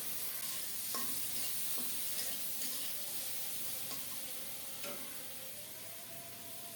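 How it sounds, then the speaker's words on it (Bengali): Onions and tomatoes frying in a pan for a lentil dish, a steady close sizzle with spatula stirring and scraping at irregular moments, no voices heard. "আরও কিছুক্ষণ ভেজে নিয়ে টমেটো দিয়ে দিচ্ছি"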